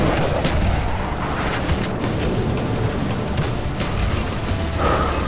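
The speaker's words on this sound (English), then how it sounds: "Roger, X-ray, coming in for strafing run" Aircraft strafing-run gunfire in Call of Duty: Black Ops, a loud continuous rattle of rapid shots and booms throughout, with no speech.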